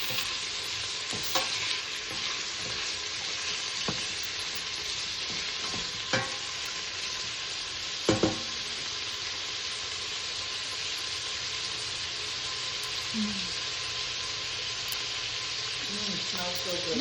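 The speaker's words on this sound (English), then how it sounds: "And then just gonna cook it until the sausage is brown." Sausage browning in a pan for New Orleans-style jambalaya, a steady close sizzle throughout with a few clinks of a utensil against the pan.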